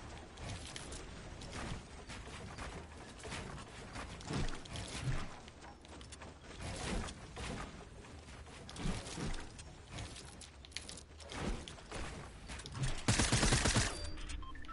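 Rapid bursts of gunfire in a shooter video game ring out, aimed at a pyramid structure, with clustered volleys throughout and a louder, denser burst near the end, fairly distant and sharp.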